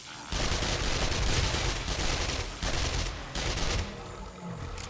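Pistol fire from 7 Days To Die game combat comes as dense, rapid bursts of shots in quick succession, loud and continuous with brief gaps, no talk over it.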